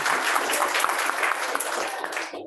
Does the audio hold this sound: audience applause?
yes